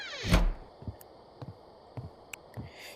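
A door is set in place in Rust VR: a sharp thunk near the start, followed by several softer, evenly spaced taps and knocks, close and fairly quiet with no talking.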